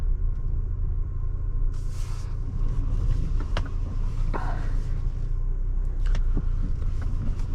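A 2024 Volvo XC90 T8 Recharge makes a slow U-turn, a low steady rumble of road and cabin noise with a few faint clicks and knocks.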